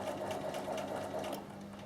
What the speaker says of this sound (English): you're straight stitching right beside your entredeux